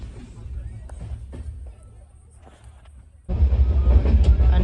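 A late passenger train runs on its rails: a low rumbling roll that quiets briefly, then surges into a louder, nearer rush of wheels and carriage noise in the final seconds.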